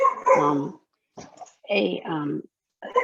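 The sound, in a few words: dog barking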